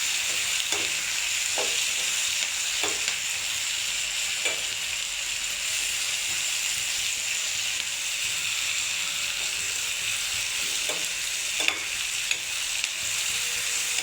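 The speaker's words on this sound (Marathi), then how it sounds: "चांगलं परतून घ्यायचं।" Steady sizzling of frying in a pan for malai kofta, with a continuous bright hiss and occasional scraping stirs of a spatula, close and even throughout.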